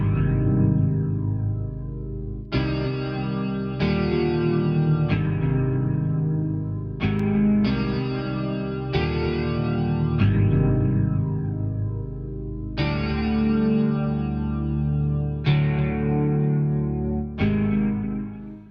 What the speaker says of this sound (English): this is how it sounds with the default flanger effect